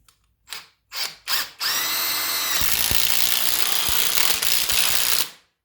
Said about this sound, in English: here I have drilled a hole at the concrete, hard concrete, and let's screw this